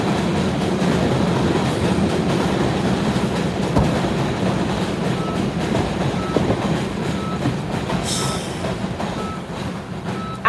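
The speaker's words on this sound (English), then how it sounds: "Y'all know I live in New York. This the train." A New York subway train rides along with a loud, steady rumble and rattle of the car, rail clatter running continuously throughout, and a brief higher squeal near the end.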